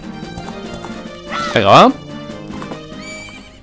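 Epona the horse from the video game Zelda Majora's Mask gives a loud, close whinny amid galloping hoofbeats and game music, with someone speaking briefly just before.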